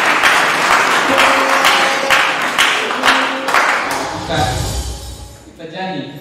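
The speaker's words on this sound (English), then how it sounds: "And you can clap." A workshop audience claps in steady, full applause that runs throughout, with some voices talking over it.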